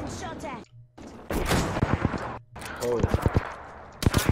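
Gunfire in the Apex Legends video game: bursts of rapid shots crackle in quick succession, loud and close, with brief gaps between volleys and a short voiced exclamation mixed in.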